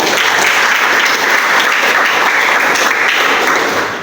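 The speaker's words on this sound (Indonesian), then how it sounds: "tepuk tangan untuk Budi" A burst of applause from a group, dense steady clapping that stays loud throughout and tapers slightly at the end.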